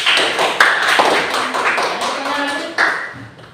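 Students in an Indonesian classroom clap their hands, a crisp, lively round of applause with sharp individual claps standing out before it tapers off toward the end.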